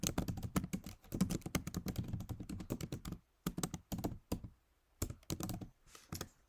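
A name being typed on a computer keyboard: rapid, close key clicks in dense bursts, a brief pause, then a few scattered taps and another short run of keystrokes.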